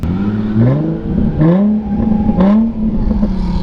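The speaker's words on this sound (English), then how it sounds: "The exhaust sounds good. Then again, it's your typical VQ." A stock Nissan 350Z with its VQ engine revs hard while waiting on the grid at a drifting event, its exhaust rising and falling in several quick, loud blips close by, with no voices over it.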